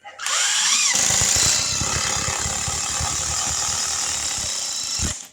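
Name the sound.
Porter Cable impact driver driving a Torx screw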